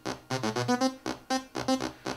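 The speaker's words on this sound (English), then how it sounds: "I made a bit loop on the BeatStep Pro, and I recorded the loop into Cakewalk" A short drum loop programmed on a BeatStep Pro and recorded into Cakewalk plays alone, with punchy kicks and snappy hits repeating in a tight two-bar pattern.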